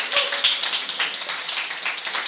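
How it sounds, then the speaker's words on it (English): Audience clapping at the AfricArena Berlin Summit 2023 to thank the event organizer, a dense, steady patter of many hands filling the room for a couple of seconds. "we should have a loud applause for Mitchell for organizing the event"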